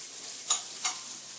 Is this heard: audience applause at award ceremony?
no